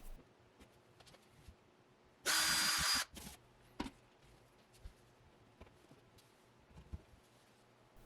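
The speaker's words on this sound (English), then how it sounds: "I pre-drilled the holes and then added wall anchors." A power drill pre-drills holes into a wall for anchors, giving one loud, steady whine of less than a second in a quiet room, with faint clicks and handling knocks before and after.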